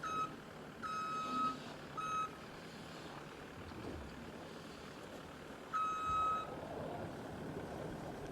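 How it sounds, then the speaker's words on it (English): A tractor reverses at a work site where a team is clearing up. Its high, steady warning beeps come in three short bursts over a continuous low engine rumble, moderately distant. "Oh, tractor."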